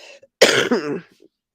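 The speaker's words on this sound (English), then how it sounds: "I'm so sorry, guys, for the coughing" A single harsh, loud cough up close, a short burst followed by a raspy trailing throat sound, with quiet before and after.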